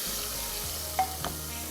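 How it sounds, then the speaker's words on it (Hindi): Cumin seeds and curry leaves sizzling in oil with browned garlic for a dal tempering, a steady close frying crackle with two brief stirring clinks, no voices. "अब लहसुन जो है हमारा यहाँ पे ब्राउन हो गया है, ज़ीरा डालेंगे इसके अंदर और डालेंगे कड़ी पत्ता"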